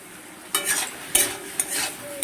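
Spices frying for a fish curry in a pan: a low sizzle with a few sharp spoon scrapes and stirs in short bursts, close and fairly quiet.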